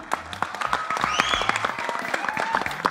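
An audience at an on-stage celebrity event breaks into sustained applause for the host, many hands clapping steadily for about three seconds, with a faint tonal musical note ringing underneath.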